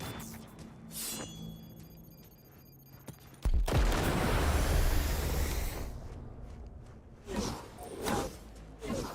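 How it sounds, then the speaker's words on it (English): Heavy artillery fire in the video game Cyberpunk 2077, a sudden loud blast followed by a sustained roaring rumble that fades, then a few sharper bursts toward the end. "Heavy artillery!"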